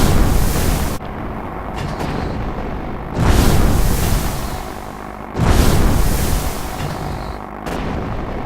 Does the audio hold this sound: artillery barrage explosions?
yes